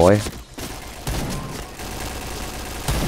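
Rapid gunfire in the PUBG video game rattles through a short stretch, loud and dense, with a voice talking over the shots.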